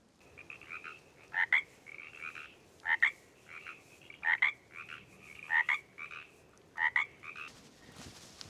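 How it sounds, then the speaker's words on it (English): Frogs croak in a regular rhythm during rain, repeated bursts of raspy calls spaced about every second, moderately close against a quiet night background. "Well, those frogs must have been pretty big."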